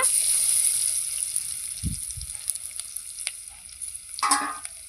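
Cumin seeds and garlic fry in hot oil for a tamarind-leaf pounded chutney, giving a steady close sizzle with occasional stirring scrapes and a brief low thud.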